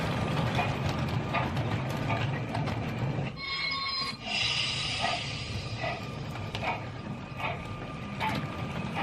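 A battery-powered toy train locomotive pushed by its motorised tender runs steadily on rails, giving a continuous close mechanical clatter and whirring gear rattle with brief shifts in tone midway, no talk.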